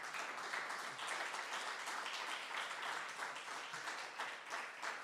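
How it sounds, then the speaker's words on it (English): A policy session audience gives a round of applause, a continuous spread of many claps heard faintly and at a distance, steady for the whole stretch with no voices over it. "can you please give me a round of applause?"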